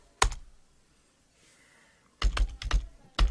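Typing on a computer keyboard: a single click, then a pause, then a quick close burst of several keystrokes and one final tap.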